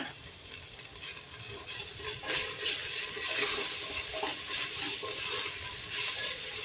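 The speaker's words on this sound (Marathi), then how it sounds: "आता छान असं आलं लसूणची पेस्ट इथं भाजून घ्यायची. ह्याच्यातच मी इथं थोडेसे काजू भाजून घेते." Ginger-garlic paste and a few cashews roasting in a pan for corn rice pulao, a steady close sizzle with scraping and stirring strokes throughout, no talk.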